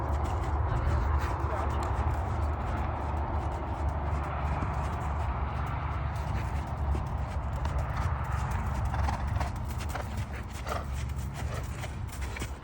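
An experienced three-star event horse warming up in training: a steady, close run of hoof beats continues under constant broad background noise for the whole stretch.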